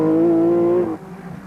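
A Ford rally car's engine roars at high revs as it races through a stage of the 1986 Circuit of Ireland Rally, a loud steady note that cuts off sharply near the end, leaving quieter rumbling behind.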